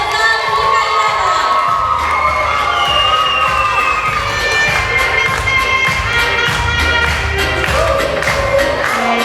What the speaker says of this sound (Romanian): Întâmpinați-o cu aplauze!